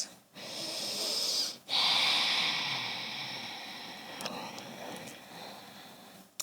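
Slow, steady breaths drawn in and let out while holding a forward fold during a slow yoga flow, a few long airy inhales and exhales close by with a brief pause between them.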